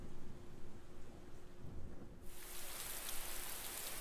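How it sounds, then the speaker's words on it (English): Steady rain hissing throughout in the video game Persona 4 Golden, swelling into a brighter, heavier downpour partway through; no voices. "You can hear it raining outside."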